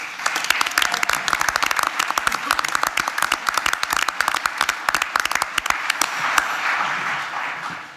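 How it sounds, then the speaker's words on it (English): Audience applause in the Supreme Court of Texas courtroom during oral arguments: dense, steady clapping from a room full of people for about six seconds, then thinning and fading out. "let's give the court one last round of applause"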